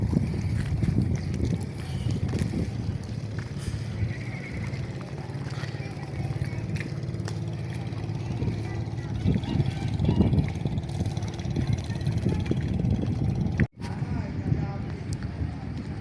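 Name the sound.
large B8 boat engine running during sea trial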